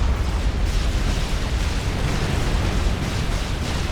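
Tactical missile launcher strikes in the strategy game Supreme Commander: Forged Alliance Forever, a dense, loud rumbling mass of overlapping explosions and booms rolling on without pause.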